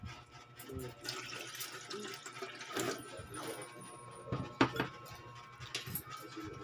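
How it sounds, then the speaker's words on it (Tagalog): Tap water running and splashing into a pot or container, filling it for fresh malunggay leaf juice in a home kitchen, with clinks and knocks of the vessel throughout, close and moderately loud. "Lagyan natin tubig."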